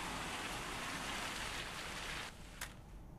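Heavy rain pours down in Himachal Pradesh, a dense, loud, unbroken hiss of falling water that fills the scene and then thins abruptly near the end, leaving a quieter wash with a brief sharp patter.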